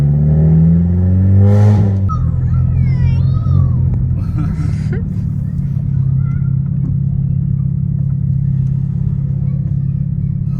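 A car with a newly installed RTS paddle clutch, being broken in on a drive in Georgia, rumbles steadily with a low engine drone, a brief rev near the start, and faint speech under the noise.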